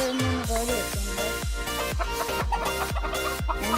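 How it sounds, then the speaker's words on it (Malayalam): Chickens on a dairy farm cluck in a quick, repeated series of close calls, with a rooster-like cry standing out among them. "ഇവിടെ ആണെങ്കിൽ 2-3 കോഴി വെക്കുന്നുണ്ട്."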